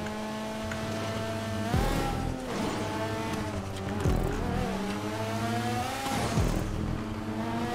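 A Pariah sports car racing around a track in GTA 5 Online, its engine droning loudly and steadily, with the pitch climbing and falling through three distinct gear shifts as it accelerates, close up.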